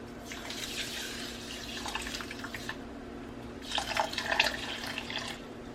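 Water runs and splashes steadily into a pot of quinoa, with a louder burst of pouring near the end; no voices.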